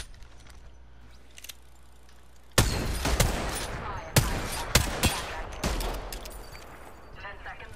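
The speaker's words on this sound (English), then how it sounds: "Opening fire" Apex Legends gunfire in a video game: after a quiet stretch, loud sharp bursts of rapid shots break out, with several distinct cracks and rattling volleys continuing to the end, and a voice talks over part of it.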